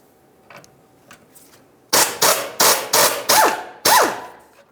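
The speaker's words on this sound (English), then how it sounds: "To remove these, you're going to use a T47 Torx bit." A power tool with a T47 Torx bit loosens the rearward transmission mount bolts on a 2000-2005 Buick LeSabre. After a few faint clicks, six short, loud, close bursts come in quick succession, each with a brief pitch drop as it winds down.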